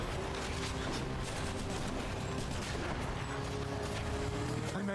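Video game gunfire from a player shooting, a dense continuous barrage of shots and booms blending into a steady loud wash of noise throughout.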